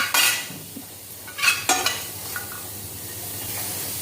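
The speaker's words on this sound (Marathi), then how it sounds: "तर इथे गॅसवर मी पॅन ठेवलेला आहे। कांदा छान असा भाजून घ्यायचा आहे।" Onion roasts in a pan on a gas stove, with a soft hiss under several sharp scrapes and clinks of a utensil against the pan, close and with no voices.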